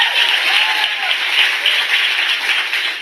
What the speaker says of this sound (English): Amy and the steering committee and Kimberly and everyone a round of applause.